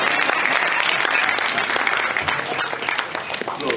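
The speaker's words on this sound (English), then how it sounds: "Please clap for me." Applause from an audience at a medical scientific conference, dense and loud, filling the whole stretch with steady clapping that eases slightly toward the end.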